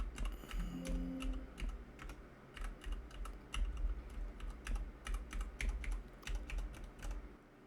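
Rapid keyboard typing recorded through a FIFINE AM6 condenser mic, a steady run of light clicking keystrokes close by, with a few louder key taps scattered throughout and no talking.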